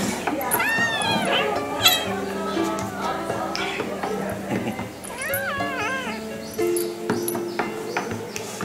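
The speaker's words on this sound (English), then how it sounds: "Oh my god, this little cat has a collar already." A small collared cat meows repeatedly in rising, wavering cries, close by, while people talk over and between the calls.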